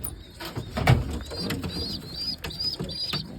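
Racing pigeons in a breeding loft: soft repeated cooing with occasional wing flutters and light chirps, close and steady, with no talk.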